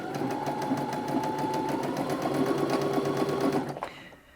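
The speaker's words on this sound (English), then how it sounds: "I'm just going to start sewing, and you'll see that it will sew either an automatic, reverse or reinforcement stitch" A Brother Innov-is A50 sewing machine runs a zigzag stitch with a steady, close mechanical whir and rapid needle ticking, then stops abruptly near the end.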